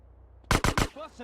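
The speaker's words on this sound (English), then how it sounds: "Can I shoot him through the gate?" Three rapid, loud gunshots from GTA San Andreas ring out in a quick burst, followed by a brief voice-like sound from the game.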